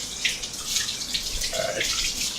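Tap water runs steadily into a sink, rinsing a blender blade, with a continuous splashing hiss and light irregular spattering.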